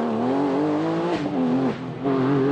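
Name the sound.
rally car driving on a stage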